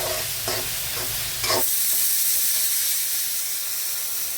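Clam meat stir-frying in a pan, a loud close hiss and sizzle with a few scraping stirs in the first second and a half, then an even steady sizzle alone.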